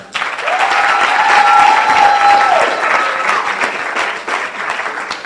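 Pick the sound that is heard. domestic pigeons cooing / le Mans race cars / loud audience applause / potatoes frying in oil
loud audience applause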